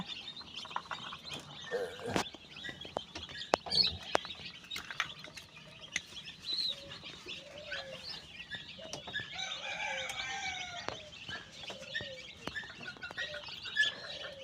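Tiny high-pitched peeps of newly hatched Tiger breed chicks at a hatchery come in quick, scattered bursts, soft and close, over quiet rustling and occasional small taps.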